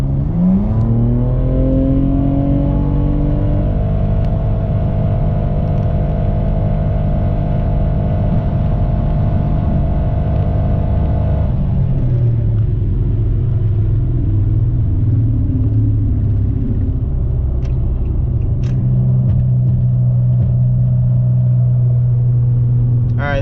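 A tuned seventh-generation Nissan Maxima accelerates hard past 80 mph, its engine note climbing steadily for about twelve seconds before easing into a lower, quieter drone as the car backs off.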